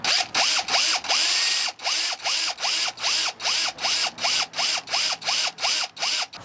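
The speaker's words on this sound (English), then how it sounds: "we can carefully drill through here without damaging the lock on the other side" A power drill bores through a garage door beside its lock, sounding as a long run of evenly spaced, pulsing bursts with short gaps between them, loud and close.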